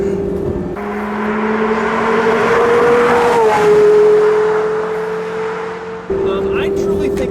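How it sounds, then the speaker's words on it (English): A Porsche Carrera GT's V10 revs up and holds a loud, sustained engine note from inside the car, with the pitch climbing and then settling, a brief gear change near the end, and faint talk underneath. "this is probably the best sounding car I've ever driven"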